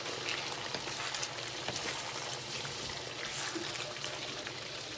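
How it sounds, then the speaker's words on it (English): Fish sauce poured into a simmering pan of chicken afritada, a wet hissing sizzle and bubbling splash that stays fairly loud and textured across the moment, with no voices. "And we're gonna put some fish sauce."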